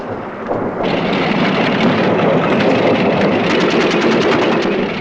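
Artillery fires in support of a First World War tank advance, heard as a loud, dense, continuous rumble and crackle of rapid bursts that fills the whole stretch, distant and unbroken.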